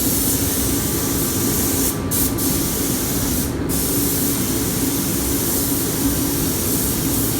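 A spray gun lays paint coats over epoxy primer on a BMW M3, a loud, steady hissing spray that breaks off twice for a moment, with no talk.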